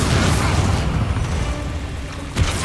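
Bombarda spell blast in Hogwarts Legacy, a loud deep rumbling boom that fades over about two seconds and is followed by a smaller thump near the end.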